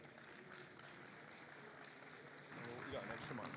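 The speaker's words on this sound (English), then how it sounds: "Please give them a round of applause." Audience applause for a panel at a crypto industry event, a dense, steady wash of many hands clapping that swells louder toward the end, with a murmur of voices mixed in.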